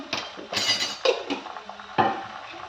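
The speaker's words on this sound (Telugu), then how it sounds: "అల్లం వెల్లుల్లి పేస్ట్ వేసి మనం చక్కగా బాగా ఈ పచ్చి వాసన అంతా వెళ్ళేదాకా వేయించుకోవాలి." Ginger garlic paste frying in a pan for a mushroom masala gravy: a few close scraping, clattering strokes of a spoon against the metal pan over a low background hiss.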